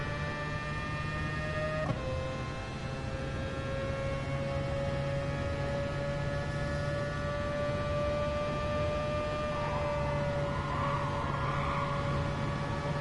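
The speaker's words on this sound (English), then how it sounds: "Let's just listen to this car for a minute, heading down this straight towards 130R." Race car in a racing video game screams down a long straight toward the 130R corner, a sustained high engine whine with a sharp gear change near two seconds, then a steady rising pitch under another shift late on.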